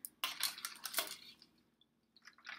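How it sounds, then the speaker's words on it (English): Soup ladled into a bowl: a quick run of metal ladle clinks and splashy scrapes against the dish, fairly faint, then a few light taps as it settles, with no talk. "We'll ladle some into this bowl."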